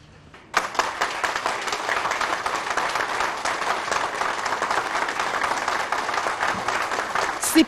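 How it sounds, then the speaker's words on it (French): Sustained, dense applause and crowd noise fill a meeting hall in the DR Congo as President Félix-Antoine Tshisekedi Tshilombo enters, a steady loud roar of clapping and acclamation that starts abruptly and holds level throughout. "C'est par ces acclamations frénétiques exécutées en chœur que le chef de l'État, Félix-Antoine Tshisekedi Tshilombo, a fait son entrée dans la salle des réunions"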